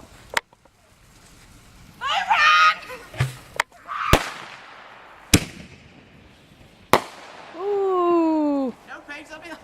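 Several sharp bangs from a fireworks cannon ring out during a backyard fireworks war. The loud cracks come at uneven intervals, with whistling, honk-like cries and voices in between.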